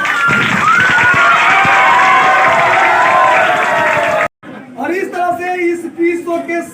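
An audience at a coaching-centre quiz show claps and cheers in a dense, loud burst that cuts off abruptly. A voice follows over scattered noise.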